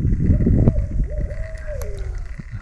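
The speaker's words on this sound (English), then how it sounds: "I think owls are fascinating." Owl hooting outdoors during a February kayak fishing trip on Maryland's Eastern Shore, a single drawn-out, wavering tonal call heard after a rumble of nearby noise, moderately loud.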